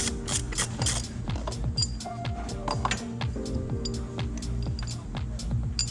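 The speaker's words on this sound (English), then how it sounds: "Just go down in there, remove the bolt and the bracket." Ratchet clicking steadily while loosening the battery bracket bolt in a BMW X2 (F39), with rapid close pawl ticks and small metallic clinks, no talk.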